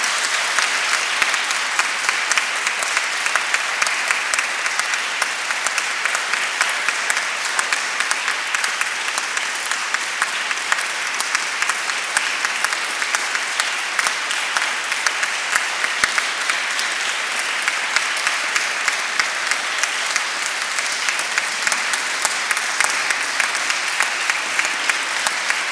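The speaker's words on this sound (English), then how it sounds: "A big round of applause, if you would be so kind." A concert audience gives a long, sustained round of applause at the end of an autumn evening music performance, dense and loud clapping from a full hall that holds steady throughout.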